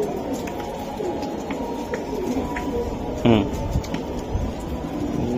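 Orange chila giribaj pigeons coo softly amid a busy outdoor background, with a short louder burst midway; voices murmur faintly throughout.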